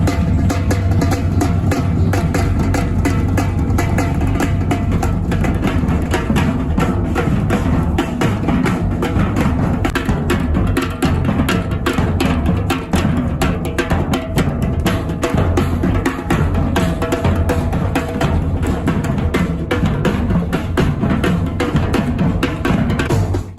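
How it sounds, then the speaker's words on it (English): A samba band with surdo bass drums plays a continuous, dense groove of booming low beats under busy, rattling higher percussion, loud and steady throughout, with no talking. "Let's hear some of your drumming, shall we?"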